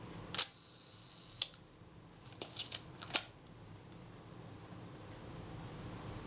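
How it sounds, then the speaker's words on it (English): A Retina Reflex type 025 camera shutter release is pressed slowly, giving a sharp click, a second click a second later, then a quick cluster of small mechanical clicks and a final snap, close and alone. "I'm pressing the shutter release very slowly."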